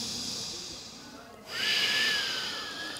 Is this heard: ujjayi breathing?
yes